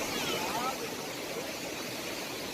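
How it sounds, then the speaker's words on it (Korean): Iguazu Falls in South America roars as a broad, steady rush of falling water, dense and unbroken, heard from a distance at moderate level with no talking. "이구아수 폭포입니다."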